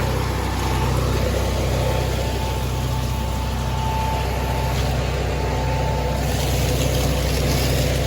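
A tractor-mounted hazelnut harvesting machine with a suction hose runs steadily in an orchard, its engine and blower giving a constant loud hum and whine throughout, no talk.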